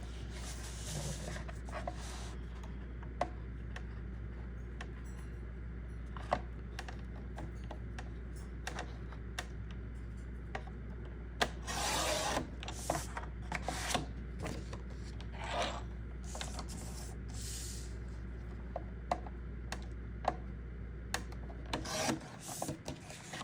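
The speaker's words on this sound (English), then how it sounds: "My little cutter." A small electronic cutting machine slices gothic journaling cards, giving a steady low motor hum with repeated short clicks and scraping strokes, closest and busiest around the middle before the motor cuts off near the end.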